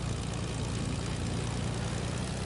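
Propeller airplane engine in the Fortnite video game, a steady droning hum that runs loud and unbroken throughout with no talking.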